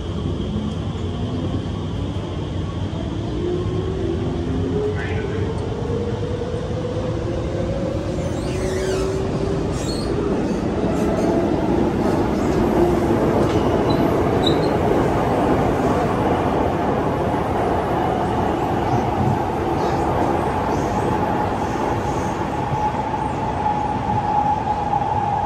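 SMRT Alstom Movia R151 metro train in Singapore heard from inside while running mid-journey, a steady loud rumble of wheels and motors with rising and falling electric whines and faint squeals, continuous throughout.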